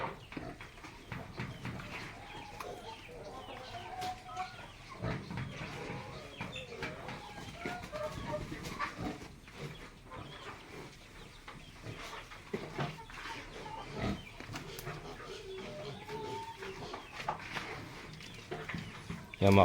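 Chickens being fed a mix of rice bran, corn and molasses on a farm, with scattered soft clucks and rooster calls, moderately distant, among rustling and intermittent human voices.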